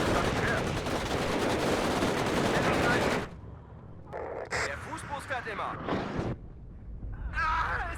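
Dense, continuous rattling gunfire and artillery in the Cold War strategy game WARNO roar loudly, then cut to quieter scattered shots and bursts while someone talks over the battle.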